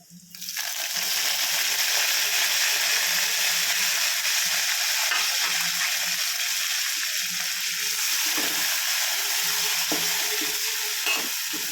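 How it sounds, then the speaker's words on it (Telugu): Ingredients for village-style gongura chutney sizzle and crackle in a hot pan while being stirred, a dense, steady frying hiss with occasional scrapes of the spoon, close and loud throughout. "ఇట్లా మంచిగా ఫ్రై చేసుకోవాలి"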